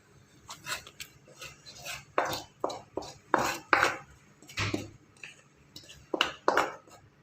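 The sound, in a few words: mixing tempering into food in a pot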